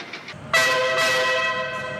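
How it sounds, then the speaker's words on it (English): A metro train sounds its horn, a loud sustained multi-tone blast that starts abruptly and holds steady over the background rumble of the train. "With this sound, the train beckons for our return back to the city"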